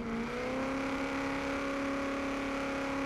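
Supercharged V8 engine in Forza Horizon 3 holding a steady, loud drone with a clear sustained tone, revving only slightly across the whole stretch, no talk over it.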